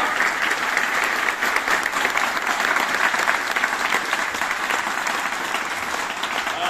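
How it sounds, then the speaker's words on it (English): Large indoor audience at an institute talk applauding in a full, sustained wash of clapping that holds evenly throughout without pause. "Can we have another big round of applause for the liberating information that has been shared with us?"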